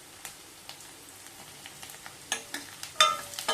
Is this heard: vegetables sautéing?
yes